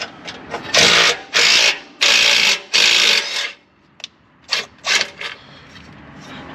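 A ratchet removing two large bolts while an intercooler is taken out of a 2021 Lincoln Navigator with a Ford EcoBoost engine, heard as close bursts of rapid clicking that start and stop, then shorter spurts near the end.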